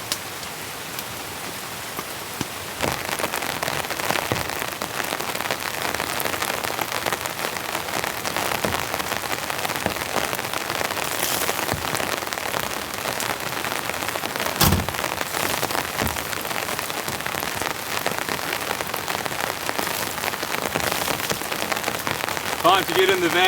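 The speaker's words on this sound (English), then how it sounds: "I've tidied everything up out here and the rain's just coming in solid." Heavy, steady rain pours down outside a compact van during a rainstorm, a dense continuous hiss of drops drumming on surfaces, close and loud throughout with a few sharper splashes and knocks.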